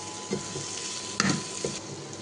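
Fennel seeds fry in a pan for Chettinad mutton gravy, giving a continuous close sizzle broken by a few scraping stirs of a spoon.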